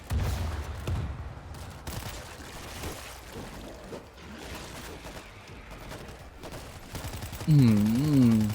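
Gunfire from guns in the World War Z shooter game, fast dense bursts of shots running under a man's speech and game noise, with a brief rising tone near the end.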